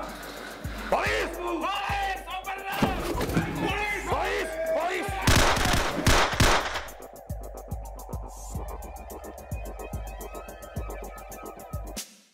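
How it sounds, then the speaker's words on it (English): MP5 submachine gun firing during test shooting on a police range, with sharp repeated shots under loud voices and shouting, ending in rapid rhythmic bursts of fire near the close. "Now I'm back on the range doing some test shooting and getting the lowdown on this anti-terror unit's use of the MP5."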